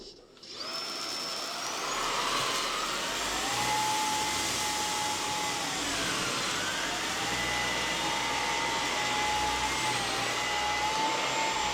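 A Bosch Unlimited 7 cordless vacuum running on Auto mode sucks up seeds, flour and oats, giving a steady, loud whine with a rising and falling motor pitch that holds throughout, close and with no talking.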